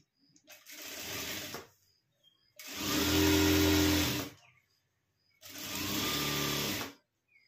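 A sewing machine stitches a blouse sleeve in three distinct bursts, each about one to one and a half seconds long, with a steady whirring hum and short silent pauses between runs.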